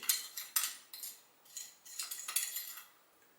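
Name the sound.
spoon stirring in water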